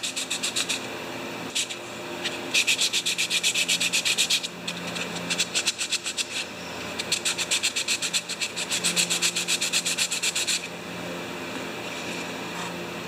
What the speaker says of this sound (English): I'm just going to do a little bit of mild sanding across here.